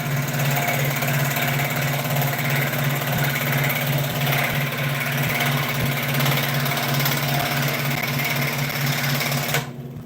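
A Blade Runner cutting machine runs steadily while cutting material, a loud, continuous mechanical drone with a strong low hum and buzzing vibration. It holds nearly unchanged for about ten seconds, then cuts off abruptly at the end.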